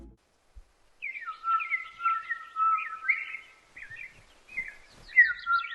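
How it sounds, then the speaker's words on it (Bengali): Cartoon sound effect of birds chirping and twittering, a string of bright, quick melodic calls that run continuously over near-silence after a brief quiet start. "পাখির কিচিরমিচির শব্দে চারপাশ মুখর।"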